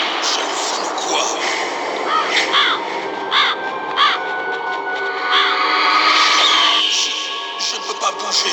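Crows caw in the Metal Gear Solid video game, with repeated harsh calls rising over a dense, continuous ambient game soundscape at fairly loud level throughout.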